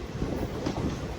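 A Guruvayur Express passenger train runs near the Villupuram outer signal in a steady, close, continuous rumble of wheels and carriages, with no voices.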